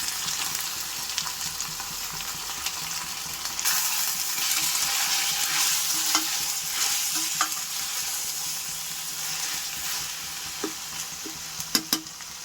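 Chicken frying in a pan with ginger and garlic for a chicken kulambu, a steady loud sizzle running throughout with scattered spatula scrapes and clicks of stirring, no talking.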